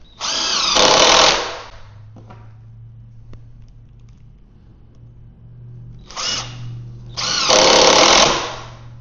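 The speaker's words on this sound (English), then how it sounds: "I'm going to go ahead and drive those 3 screws into place." Power drill driving three screws into a wooden cart part, two loud whirring bursts at the start and end with a quieter spell and faint handling knocks in between.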